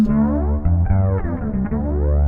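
A bass guitar plays a steady low line through a Ghost effects pedal with a chorus-like effect, thick and wobbling, loud and close with no voices.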